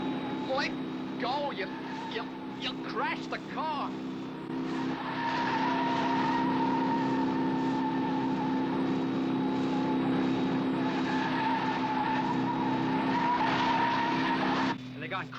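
A car speeding out of control, its tires skidding and squealing in a long continuous screech over a roaring engine, with people's voices breaking in over the opening seconds before the sound cuts off abruptly near the end.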